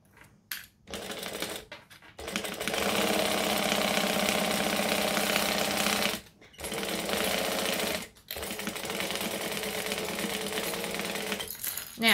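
A home sewing machine stitching fabric runs in long, steady, rapid whirring bursts, stopping abruptly several times with brief quiet gaps between runs, close and clear with no talk.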